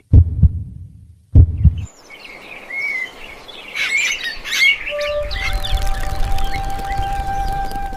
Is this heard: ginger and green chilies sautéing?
no